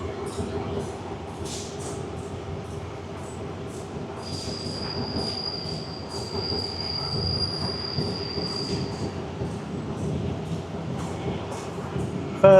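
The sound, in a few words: train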